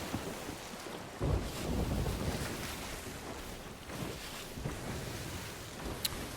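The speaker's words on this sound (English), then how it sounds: "the lovely sound of seagulls and waves" Ocean waves wash and surge over a steady wind rush in a sailing video game, forming a soft, continuous swell with a brief high cry near the end.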